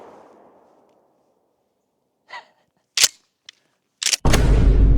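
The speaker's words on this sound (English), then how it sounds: "This is gonna be coming out of a 20-inch Maverick 88." A shotgun slug fires from a 20-inch Maverick 88 smoothbore at a 1989 bulletproof vest outdoors, a sharp loud report following a few quieter clicks and thumps, then a sustained rumble and wind noise.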